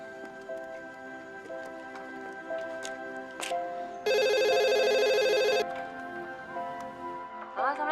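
A mobile phone rings loudly for about a second and a half, a bright electronic ringtone cutting through a quiet indoor room with soft ticking and small background noises around it.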